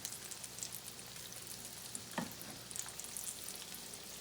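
Zucchini slices fry in shallow oil as a steady, soft, hissing sizzle. One brief clatter from a turned slice or a utensil comes partway through, and no one speaks.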